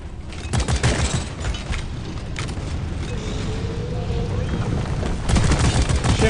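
Gunfire in the Deep Rock Galactic co-op shooter, a steady stream of shots mixed with booms and rumbling, loud and continuous, growing heavier near the end.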